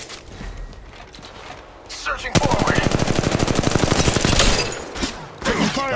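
Video game gunfire: scattered shots at first, then a loud, rapid machine-gun burst rattles continuously for several seconds before cutting off.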